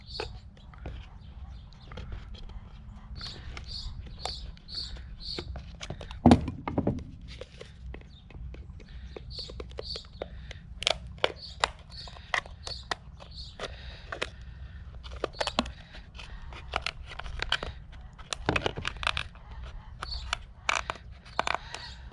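A Dunkin' Donuts cup having its bottom cut out, heard as sporadic quiet crunching, snipping and tearing clicks spread irregularly over a calm background, with faint murmuring now and then.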